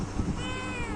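A kitten gives one short, close meow, alone and fairly soft.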